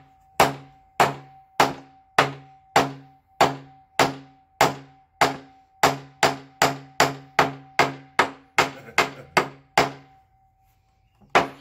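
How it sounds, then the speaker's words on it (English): Hammer strikes on a wooden planter, about twenty sharp, evenly spaced knocks close by, each with a short ringing tail, the pace quickening near the end before stopping. "When you take the hammer, if you can, you're right-handed, put the hammer handle in your right hand."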